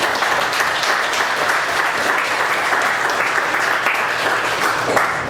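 Steady applause from a meeting audience, dense and even at a constant loudness with no voices on top, filling the whole stretch without a break.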